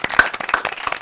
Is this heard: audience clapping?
yes